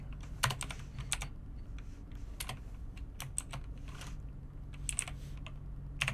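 C# code being typed on a computer keyboard: quiet, irregular bursts of key clicks with short pauses between them, heard close over a low background hum.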